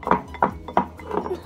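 Spoon or utensil stirring a slime mixture in a bowl, giving a few sharp clinks at a steady rhythm, close and fairly loud.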